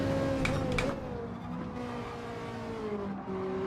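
Ferrari Group 4 race car in Gran Turismo 7 at Catalunya, engine droning steadily at high revs with shifting pitch and brief tire squeal, fairly loud and continuous with no talk.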